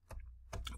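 Keys tapped on a computer keyboard while entering a command in a network simulation program on a laptop: two quick clicks, close and fairly quiet, separated by a short gap.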